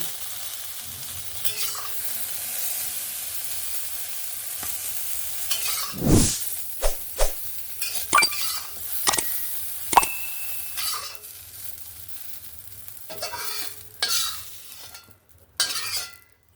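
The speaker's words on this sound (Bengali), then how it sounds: "দেখো, উচ্ছে আর বেগুনটাকে সুন্দরভাবে ভেজে নিয়েছি।" Bitter gourd and eggplant slices fry in hot oil with a continuous close sizzle, broken by several sharp metallic clinks and scrapes as a utensil stirs and turns them in the pan, with no voices.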